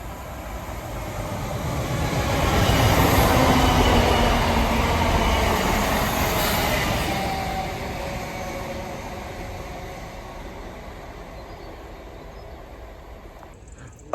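A train passes through Sudbury Hill Harrow station, a steady broadband rumble that swells to its loudest around the third second, holds, then slowly fades as it draws away, with no talking.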